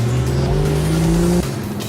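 A 2016 Porsche Boxster Spyder engine revs under way, its loud steady drone climbing in pitch, dropping briefly at a gear change and rising again before easing off, with road noise beneath and no talking.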